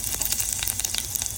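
Cumin seeds and garlic hitting hot oil, a dense crackling sizzle with rapid spitting pops, close and steady throughout.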